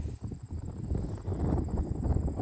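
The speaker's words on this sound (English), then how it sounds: "So the wind's picking up pretty good." Steady low rumbling buffeting of wind against the microphone, continuous and fairly loud throughout, with no voices.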